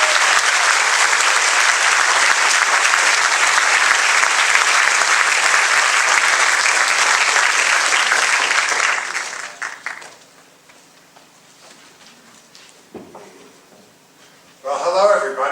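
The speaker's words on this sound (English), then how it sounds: "I am sure you will join me with a round of applause in giving the professor a warm next welcome." Warm applause from an audience welcoming a visiting professor at a science school lecture, loud and dense for about nine seconds before fading into quiet room noise, with a voice starting near the end.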